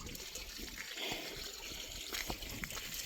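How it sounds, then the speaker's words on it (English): A small waterfall on a hiking trail trickling and splashing steadily, soft and somewhat distant, with no voices over it. "Little waterfall."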